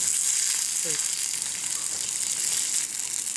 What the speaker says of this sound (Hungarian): ott pedig a köretnek való például krumplit lehet nagyszerűen sütni